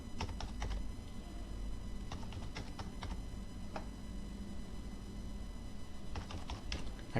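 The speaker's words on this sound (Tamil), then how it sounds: "அதை வந்து இங்கே நம்ம டைப் பண்ணணும்" Someone types a Zoom meeting ID and password on a computer keyboard, producing quiet, close clusters of quick keystroke clicks with short gaps between bursts.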